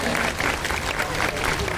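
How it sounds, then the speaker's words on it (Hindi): A crowd applauds with a brief, dense burst of clapping at a large religious ceremony, a 108-altar maha yagya held at Gandhi Maidan in Gaya. "सभी ताली बजाते हुए कर्तव्य ध्वनि करके हम सभी स्वागत करते हैं, वंदन करते हैं"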